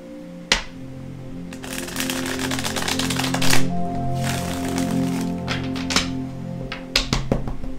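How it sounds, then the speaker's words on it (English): A deck of Crystal Vision tarot cards is shuffled by hand, with rapid riffling bursts, soft slides and sharp taps as the cards are squared, loud and close. "as I'm shuffling the cards, I'm just going to hold up the cards"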